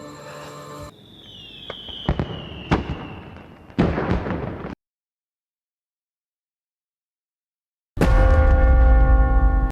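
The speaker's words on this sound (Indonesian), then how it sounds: "Si Walter membawanya ke suatu ruangan untuk menyaksikan kembang api dari sana." Sharp bangs and crackling bursts go off several times, then a silence, followed by loud sustained rumbling.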